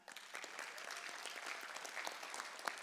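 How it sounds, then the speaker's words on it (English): An audience at a comedy show claps steadily, a faint, dense, even patter of many hands continuing without pause. "You should clap for that."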